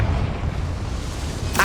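A Confringo fire-spell blast in Hogwarts Legacy, set inside a goblin mine: a short, dense rumbling burst that holds steady before a sharp crackle at the end.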